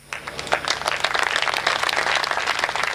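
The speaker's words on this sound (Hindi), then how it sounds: "अब नींद उतरने का एक ही रास्ता है कि जनता ताली बजाए।" Audience at a Hindi poetry recital breaking into applause, a dense burst of clapping that swells quickly and holds steady and fairly loud to the end.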